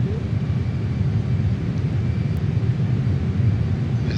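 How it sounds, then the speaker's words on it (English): Saab JAS 39 Gripen jet in Microsoft Flight Simulator 2020 with afterburner engaged, a loud continuous low rumble with steady hiss and faint whine, unbroken for several seconds. "There's a vacuum cleaner type whine, there's a hiss, and there's a jet thunder all going on at once."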